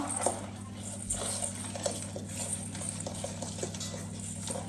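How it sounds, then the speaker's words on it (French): Cereal bar ingredients with cranberries being stirred together in a bowl, giving soft, steady scraping and mixing sounds with light clinks over a low background hum. "on va pouvoir mélanger tout ça pour coller et constituer les barres"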